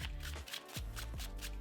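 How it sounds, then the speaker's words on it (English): A spectator riffles and shuffles a blue deck of playing cards in quick bursts, several crisp fluttering riffles close up and fairly quiet, with no talking over them. "I'll let the spectator shuffle it up just because,"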